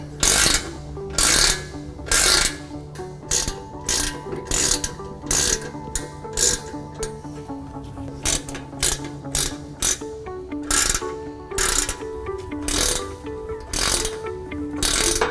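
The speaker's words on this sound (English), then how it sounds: "Then we can start tightening everything down." Repeated ratcheting bursts from tightening fasteners while installing a Xante X-16, short mechanical clicking runs separated by brief pauses, close and fairly loud with no talking.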